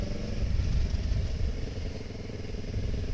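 A Kawasaki ER6N motorcycle on an early-morning ride under light throttle gives a quiet, even, pulsing engine drone with faint mechanical clatter, holding steady throughout.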